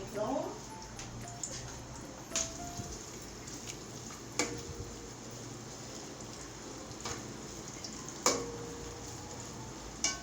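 Thin-sliced medium onion frying and browning in a pan, a steady soft sizzle with occasional stirring clinks and scrapes, fairly quiet and close.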